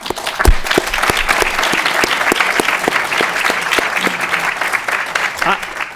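An audience claps steadily together, a dense run of hand claps that holds at an even level throughout with no break.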